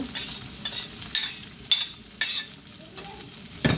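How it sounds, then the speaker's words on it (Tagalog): Red onion sautéing in a pan for a simple chicken biryani, a soft steady sizzle broken by several sharp scraping stirs of a utensil against the pan, close and with no voices. "Igisa naman itong red onion."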